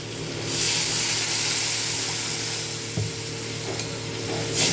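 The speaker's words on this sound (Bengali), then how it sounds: "মশলা আমার ভালো করে ভাজা হয়ে গেছে এবার এর মধ্যে দেবো জল" Fried spice paste sizzling in a pan for tangra fish jhal, with water poured in: a steady, loud hiss that swells as the water hits, then keeps bubbling and crackling close up.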